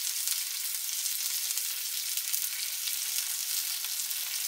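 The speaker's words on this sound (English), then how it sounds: "I need to get a little toast on these buns." Hot dog buns toasting in leftover grease and fat on a street-vendor style griddle, giving a steady, even sizzle that runs continuously and close with no talking.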